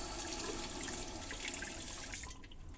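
Running water rinsing a safety razor during wet shaving, a steady, faint hiss of tap water splashing over the blade, continuous and close, with no talking.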